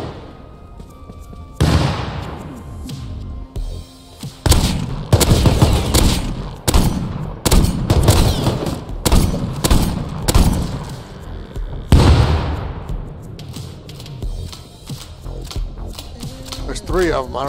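Gunfire in the survival game Rust, a rapid burst of loud shots and booming impacts in several clustered volleys, with people talking over the action.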